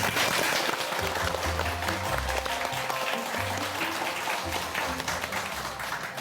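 An audience applauds, a dense continuous patter of clapping filling the whole stretch before slowly easing off.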